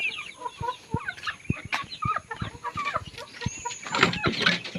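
Asil Burmese chicks and a broody hen cluck and peep during feeding, giving soft, scattered clucks and short sharp calls that run throughout, with some pecking and scratching noises nearby and no talking.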